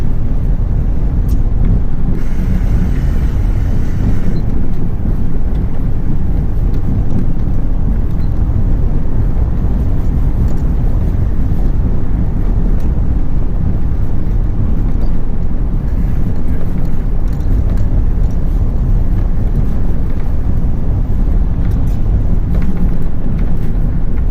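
Ford F-250 pickup with a new engine accelerating and shifting, heard from inside as a loud, constant low engine and road roar with heavy rumble throughout and no clear gaps.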